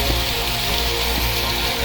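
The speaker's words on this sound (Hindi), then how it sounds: "देखो इतनी देर में बहुत तेज बारिश होने लगी" Heavy rain pouring down in a dense, even hiss, steady and unbroken for the whole short stretch, with no voices.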